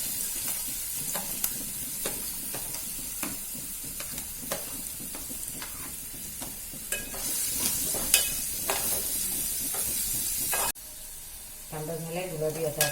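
Onion frying in hot oil for a chicken liver masala, a steady loud sizzle with scattered stirring clicks and scrapes, easing briefly near the end before the crackle picks up again.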